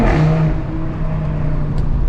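An Audi RS3 engine in dynamic mode revs hard with its exhaust valves open, producing a loud, continuous, close-up growl that holds steady for about two seconds with no talking.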